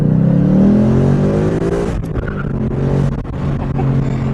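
2018 Ford Mustang exhaust note, a loud, deep engine drone that swells under acceleration and then settles into a steady rumble, heard close and continuous throughout.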